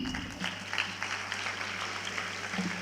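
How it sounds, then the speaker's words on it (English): Fairly quiet, sustained audience applause at an international conference of chief justices following the introduction of Haiti's prime minister, steady clapping over a low hum. "We expect a louder round of applause."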